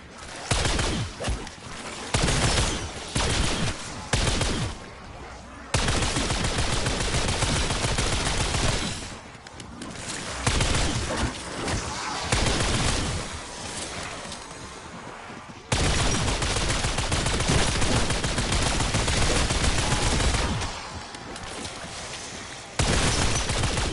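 Rapid bursts of video game gunfire from a weapon, loud and dense, coming in long sustained volleys broken by short pauses, with no talk over it.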